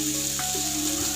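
Softened vegetables sizzling and frying in a pan while being stirred for chira pulao, a brief steady hiss with light scraping, close up and without talk.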